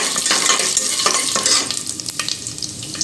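A tempering of asafoetida, curry leaves and a dried chilli is stirred in a pan, crackling and sizzling with spatula scrapes. The sound is louder and busier at first, then thins to scattered pops.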